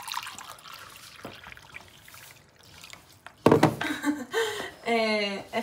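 Lukewarm water trickles and splashes as it is poured into a bowl for pumpkin pie dough, a soft close dribble followed by louder handling knocks, with a person talking near the end.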